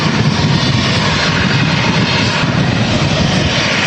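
An EasyJet A320neo jet airliner rolls at an airport, its engines giving a loud, continuous broadband roar that stays steady and near for the whole span, with no talking.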